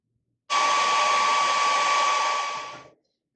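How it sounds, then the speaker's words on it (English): A hair dryer blows on painted penguin artwork, a loud steady whir starting abruptly, holding for about two and a half seconds with a faint tonal whine, then trailing off alone without any talk. "I'm going to give this a quick blow dry and then we'll do the next one."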